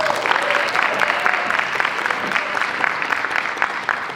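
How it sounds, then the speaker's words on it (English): A student performance audience gives the monologuist Nicholas a round of applause, a steady wash of many hands clapping at moderate loudness throughout, without talk on top. "big round of applause for him"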